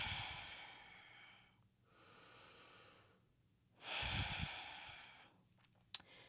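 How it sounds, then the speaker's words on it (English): Slow, deep breaths during a seated upper-back and spine exercise session, each long inhale and exhale soft and close, separated by quiet pauses, with a faint snort-like sniff near the end and no talking. "Take a couple of breaths."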